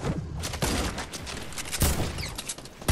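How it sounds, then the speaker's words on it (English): Gunfire from a Fortnite match: several sharp broadband shots crack out in irregular bursts, close and loud, over a busy game soundscape with no talk. "Guy on me, shooting me."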